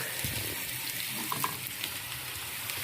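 Carrot frying in a pan, a faint, steady sizzle with a few small pops and crackles, quiet and close throughout without speech.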